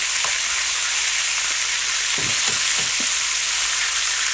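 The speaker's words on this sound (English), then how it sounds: "So you want to get the fat out of that pork. So you're rendering the fat down." Pork chops frying in a pan as their fat renders down, giving a steady, loud, close sizzle with a few soft knocks and stirring sounds in the middle.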